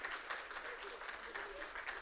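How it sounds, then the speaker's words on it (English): Audience applause at a convention masquerade event, a steady dense wash of clapping lasting throughout, moderately loud, with voices faintly mixed in. "A big round of applause."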